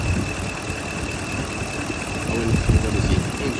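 A Ram 1500 pickup with over 200,000 miles idles while warming up, a low, steady engine rumble with a faint whine throughout and slight irregular knocking near the end.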